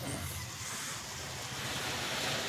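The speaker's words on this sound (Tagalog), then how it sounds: "Kaya ngayon umaga pa lang nandito ako sa baybayin." Ocean waves washing on a beach shoreline on Bantayan Island, a steady low surf roar with wind noise on the microphone, continuous and fairly faint, with no talking.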